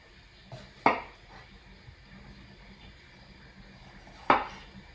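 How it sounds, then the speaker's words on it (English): Two sharp knife strokes through a vegetable on a cutting board, one near the start and one near the end, each a quick crisp chop against quiet kitchen background. "Chop the bottom off."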